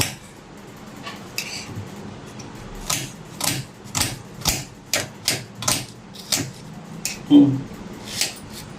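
A knife chops onions on a cutting board in a steady run of about a dozen sharp, close taps with short gaps between them, over a low background hum, with no one speaking.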